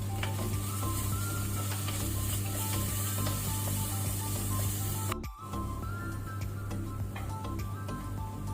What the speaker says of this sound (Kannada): ಇದನ್ನು ಸಹ ಒಳ್ಳೆ ರೀತಿ ಫ್ರೈ ಮಾಡಬೇಕು, ಹಸಿ ವಾಸನೆ ಹೋಗೋ ತನಕ